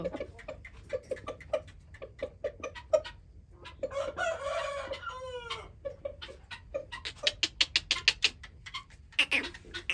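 Roosters crow loudly nearby, with bursts of clucking and scratchy fowl calls throughout, a long crow in the middle and busy clucks after.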